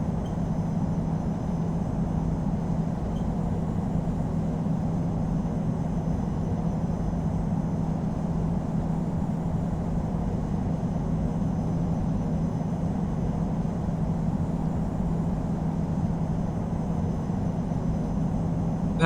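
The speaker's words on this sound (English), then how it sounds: "Taxiing to parking." Low, steady engine hum of an Air France Airbus A350-900 taxiing in the Infinite Flight simulator, continuous and even in level with no talk.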